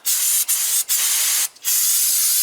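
Brake cleaner sprayed onto a Ford Thunderbird axle in a few loud, close hissing bursts, with brief pauses between them and a long final spray, no talking.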